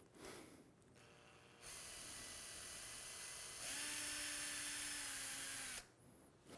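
Surgical power drill boring a pin hole through cadaver bone, whirring steadily for several seconds with its pitch and load shifting as it cuts, then stopping abruptly; no talking.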